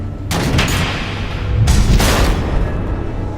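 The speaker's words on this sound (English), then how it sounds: "The missiles." Missiles explode in a Batman game with two heavy, booming blasts about a second apart, each rolling into a rumbling tail, loud and close with no talking.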